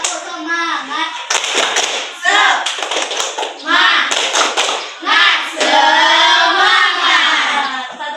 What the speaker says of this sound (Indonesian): Ayo kawan-kawan kita bertepuk semangat dengan semangat.